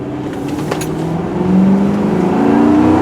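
A 2009 Ford Crown Victoria P71 police interceptor with a tuned V8 accelerating at full throttle, a loud steady engine roar rising in pitch as it pulls, heard from inside the car without talk.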